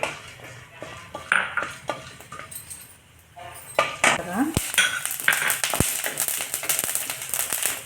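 Whole spices such as coriander seeds, fenugreek and dried red chillies being fried in a little oil in a pan for horse gram soup, with scraping stirs, metal clinks of a spoon against the pan and soft background noise.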